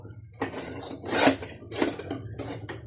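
A ceramic plate and a kitchen knife are handled, giving a few distinct clinks and scrapes spaced about half a second apart, close and fairly quiet.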